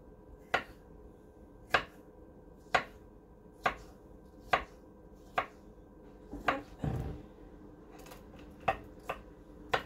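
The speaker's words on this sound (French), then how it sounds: "je vais venir couper tout ça en tout petits carrés" A knife chopping food into small squares, a series of about a dozen crisp, evenly spaced taps on a board, close and clear, with a brief clatter midway.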